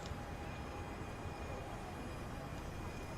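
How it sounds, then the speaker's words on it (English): A video-game train pulls in at a platform, a steady broadband rumble and hiss holding at an even level for a few seconds, with no talking. "Here comes another train."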